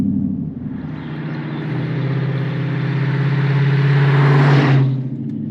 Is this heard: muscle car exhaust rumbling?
yes